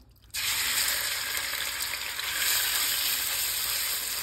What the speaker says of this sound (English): So let's get our shrimp in.